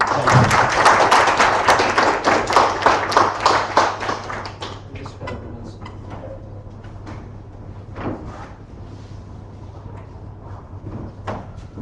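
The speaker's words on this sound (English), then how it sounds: "A big round of applause for him." Applause at a tech user group meetup: a burst of clapping from a modest audience for about four seconds, fading into scattered claps and room noise.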